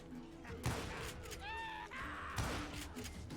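Two separated gunshots in a western video game shootout at a surrounded homestead, moderately loud amid a steady background, with voices.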